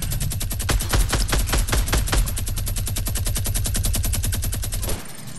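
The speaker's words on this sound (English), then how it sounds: "I can minigun him." Rapid, steady minigun fire in Fortnite, a dense stream of loud, close shots ringing out for about five seconds before cutting off into quieter game ambience.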